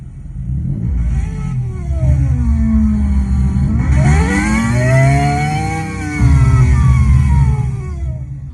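A loud engine revs continuously, pitch sweeping up and down through several climbs, ending in a sustained high rev; a synthetic, game-like racecar tone with no talking.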